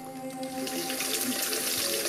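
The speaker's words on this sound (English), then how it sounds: "That is the water that I get from the mountain." Mountain water runs into a tank in a steady, close, continuous splashing rush with no talk over it.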